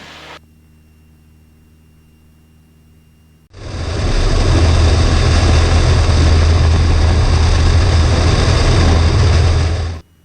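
A Beech Musketeer light single-engine airplane's propeller engine jumps to full takeoff power after a quiet idle, a loud, steady roar with broadband propeller wash that holds strong for several seconds before cutting off.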